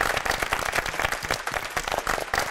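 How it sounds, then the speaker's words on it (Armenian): A studio audience gives a brisk, dense round of applause for actress Lili Elbakyan at an evening show, steady and close throughout the short burst. "եկեք ծափարենք բրավո"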